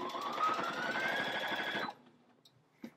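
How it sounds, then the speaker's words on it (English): A Brother NS80e sewing machine stitches through denim in a rapid, even mechanical chatter for nearly two seconds, then stops, leaving a quiet pause and a small click. "So as I put my fabric on, I'm going to show you just how easy this machine can sew through it."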